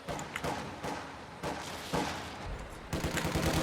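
Bursts of MG42 machine gun fire in the Company of Heroes 2 strategy game, rattling in repeated volleys with thumping impacts over a busy, dense battle din.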